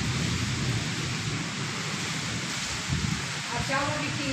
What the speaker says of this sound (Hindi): पानी भी आ गया है गाइस।